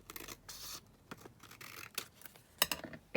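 A paper envelope is cut with scissors while making a junk journal: several short, close snipping and rustling bursts with brief pauses between them, ending on a couple of sharper crisp cuts.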